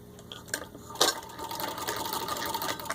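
A vintage antique Singer sewing machine stitching, its steady mechanical whir running close and continuous after a couple of brief clicks at the start.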